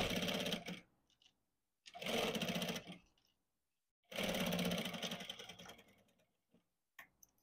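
A sewing machine stitches a garment neckline with long basting stitches, running in three loud, close bursts of rapid mechanical chatter with short silent pauses between them.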